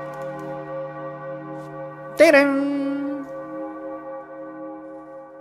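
A single deep bell toll strikes in a Majora's Mask–themed Friday Night Funkin' mod, ringing out loud over a steady sustained musical drone and decaying slowly, with a brief exclamation spoken just before it.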